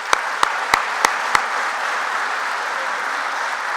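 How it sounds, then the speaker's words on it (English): Audience applause at a college athletic hall of fame induction ceremony, a soft, even wash of clapping heard from a distance, punctuated near the start by a few sharp, evenly spaced clicks. "I think that deserves another round of applause as well."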